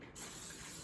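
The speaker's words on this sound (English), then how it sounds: "I'm just going to spray it with some cooking spray" Cooking spray hisses from an aerosol can into an 8-inch square baking pan, one close steady burst just under a second long with no talk.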